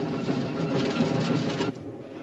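A train runs on rails as a steady, loud rumble with a rhythmic clatter, continuous throughout and slightly quieter near the end, with no voices.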